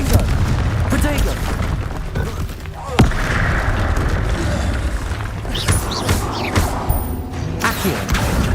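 Spell explosions such as Bombarda and Confringo in the video game Hogwarts Legacy land as repeated booming blasts amid loud combat clatter, with voices speaking over the fight throughout.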